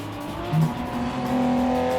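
Mitsubishi GTO Twin Turbo driven rally-style on dirt in Gran Turismo 7, its engine droning steadily with a brief tire scrub and a rising rev near the middle, close and continuous.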